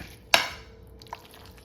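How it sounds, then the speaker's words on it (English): A spoon clinks sharply against a glass bowl, then a softer second clink follows amid quiet scraping of tuna melt filling being stirred nearby. "Sorry about the noise, y'all, because I'm in a glass bowl."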